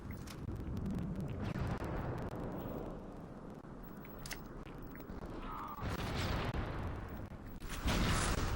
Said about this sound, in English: That was a crazy nade.